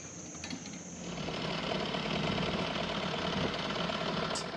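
Engine of a traditional wooden Thai longtail boat at sea near Ao Nang, Krabi, a steady rattling chug that rises after a quieter start and holds evenly, heard with wind and water noise.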